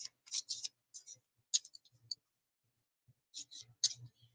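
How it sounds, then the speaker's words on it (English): A pile of playing cards being gently shuffled, giving quick bursts of crisp, close clicking and flicking in short clusters separated by brief pauses. "you just gently shuffle them"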